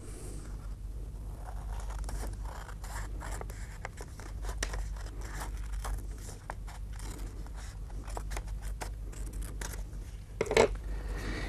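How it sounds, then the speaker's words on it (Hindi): Scissors snip along the center fold line of creased paper for a folding paper-book craft, with a steady run of close, crisp cuts and crunches over a low background hum and no talking. "कैंची से लेकर के।"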